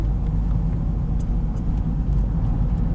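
A van rumbles along a potholed mountain road through the Someșul Rece gorge in the Apuseni Mountains, a loud steady low engine and road roar with faint knocks and rattles from the rough surface.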